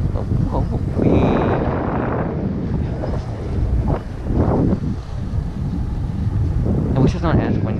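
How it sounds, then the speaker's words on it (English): Strong wind buffets the microphone in a constant low roar while parasailing over the sea in Belize, with faint voices and the wash of water underneath. "I wish it's not as windy."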